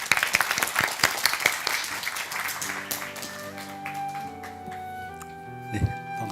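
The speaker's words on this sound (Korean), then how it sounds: "김우영 청장님 박수로 모시겠습니다" A crowd applauds, dense clapping that tapers off into a sustained musical tone with scattered claps.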